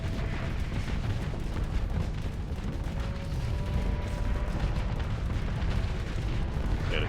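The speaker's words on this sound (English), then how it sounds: "It's getting pounded by the battle cruiser." In a video game, a battle cruiser bombards an enemy with continuous heavy gunfire, producing a dense, rumbling barrage of booms and explosions that never lets up.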